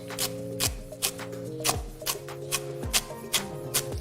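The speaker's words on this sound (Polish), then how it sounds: "natomiast te części już łodygi kroję po prostu drobniutko" Knife on a cutting board finely chopping leaf stems for a vegan chłodnik, steady close taps repeating about twice a second, each a sharp broadband click over a faint tonal hum in the background.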